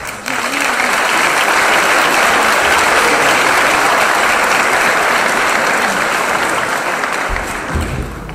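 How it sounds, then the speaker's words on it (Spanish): A large crowd at a political conference applauds loudly and steadily for about seven seconds, a dense, sustained roar of clapping that tapers off at the end. "Fuerte el aplauso."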